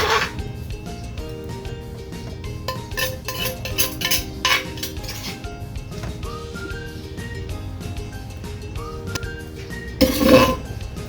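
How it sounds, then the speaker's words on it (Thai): Cooked food is scooped onto a plate in a home kitchen, with metal utensils clinking and scraping on dishes, steady and close over a musical background, and a louder clatter near the end. "ดี๋ยวเอามาตักใส่จานเลยบัดนี้"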